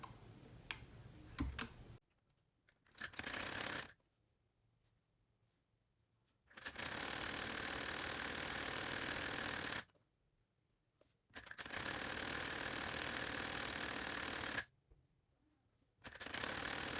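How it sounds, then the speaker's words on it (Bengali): A sewing machine stitches along the folded cuff of a kameez sleeve in three sustained runs of steady mechanical whirring, separated by short pauses and quiet spells, with a brief burst near the start. "তারপর সেলাইটা দিব।"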